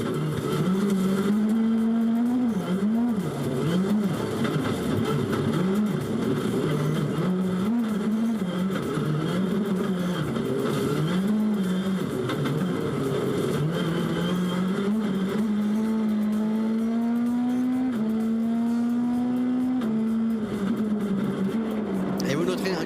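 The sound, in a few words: rallycross race cars racing on track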